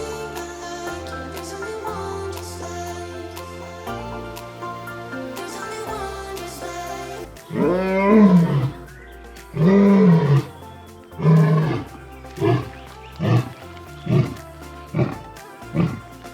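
Lion roaring at Darling Downs Zoo: after ambient sound, a series of loud, close, throaty roars rises into rhythmic grunting bursts that grow shorter and evenly spaced as the call winds down.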